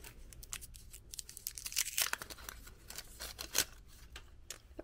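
A tight tag is snipped and torn off a purchased item. Close, quiet crinkling and tearing comes in short irregular bursts with a few sharper snips, with no voice over it.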